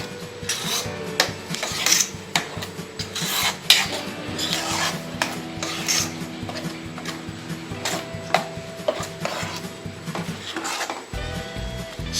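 A utensil scrapes and rubs around a metal pan of egg masala curry in steady, repeated strokes, with occasional clinks, close and moderately loud.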